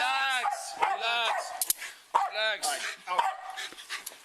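Several dogs bark and whimper in a tense home scene, with high yips and whines alongside excited barking, close and loud, mixed with a person talking over them.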